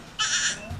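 A goat gives a single short bleat, brief and fairly faint, followed by a small low sound afterward.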